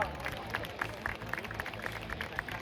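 Crowd applause in a grandstand at the MotoGP Grand Prix in Jerez, Spain, for an aerobatic flying display: a faint, diffuse wash of clapping over a steady low rumble, with a public-address voice talking throughout.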